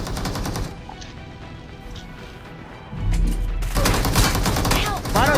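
Rapid gunfire in the battle royale game PUBG during a squad firefight, bursts cracking loudly and densely throughout, swelling into a heavier sustained barrage in the final seconds.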